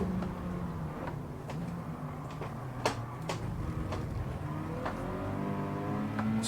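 A Toyota race car engine drones steadily in a Gran Turismo 7 race, its pitch sliding up and down through gear changes, with faint ticks and clicks over the continuous hum.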